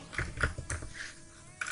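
Quick, close keystrokes on a computer keyboard while a name is typed into an SQL Server query, a short burst of soft clicks followed by a pause and a final tap.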